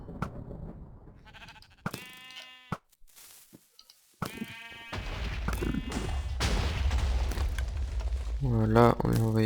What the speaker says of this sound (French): on lui a envoyé un petit mouton